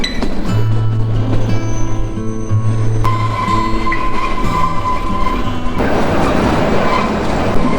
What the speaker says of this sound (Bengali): টানেলগুলোর মধ্যে দিয়ে যখন ট্রেনটা পাস করছে তখন কিন্তু বেশ গরম লাগছে